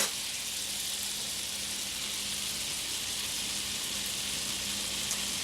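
Bread soaked for a breakfast dish sizzles gently in a pan of melted butter, a soft, steady hiss with a faint low hum beneath and no talk.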